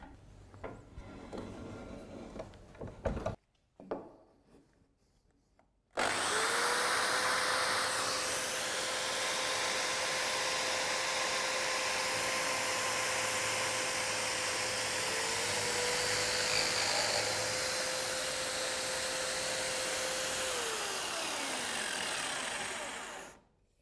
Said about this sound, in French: tout est maintenant scié à mesure, fraisé et foré